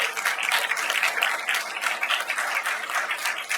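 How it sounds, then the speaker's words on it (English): Audience at a school board trustee candidate forum applauding, a steady wash of many hands clapping throughout, fairly loud and alone. "give a big round of applause for these candidates."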